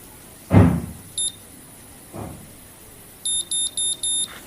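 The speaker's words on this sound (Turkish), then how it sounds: "Bıp bıp bıp bıp sesini duyduktan sonra açıyorum ve bırakıyorum." A Babyliss Curl Secret automatic hair curler gives a short electronic beep, then a run of four quick high beeps near the end, with soft handling rustles in between and no talk.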